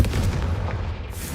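A Confringo fire spell blast in the Hogwarts Legacy video game: one heavy booming burst with a rumbling low tail that fades over about a second.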